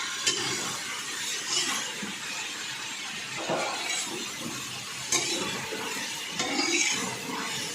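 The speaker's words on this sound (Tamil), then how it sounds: "நல்லா மிக்ஸ் பண்ணிக்கலாம்." Vegetable biryani with onions and vegetables being stirred and mixed in a pan, a steady close sizzle of frying with scraping and clinking spoon strokes throughout.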